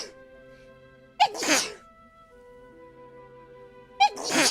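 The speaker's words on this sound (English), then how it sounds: "I'm gonna sneeze." Two sharp sneezes from a person with a cat allergy, each with a quick breath in and then a burst, a few seconds apart against a quiet background with a faint steady hum.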